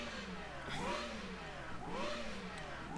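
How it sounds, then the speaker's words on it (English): A high-pitched Renault V10 racing engine in Automobilista 2 revs up and drops back twice in a rhythmic cycle, with a sharp, screaming tone. "That's right, a Renault V10."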